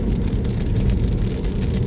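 Rain falls during a road trip in Thailand, heard from a moving vehicle: a brief, steady patter over a deep, continuous road rumble.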